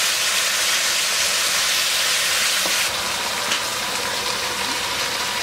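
Venison stir fry sizzling in a cast iron fry pan, with a steady, loud hiss of frying throughout and a slight drop in intensity midway, with no talking.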